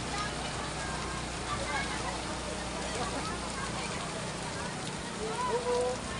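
Steady rain patters over a Holy Wednesday procession in San Juan, Guagua, Pampanga, a continuous dense hiss mixed with crowd murmur and voices throughout.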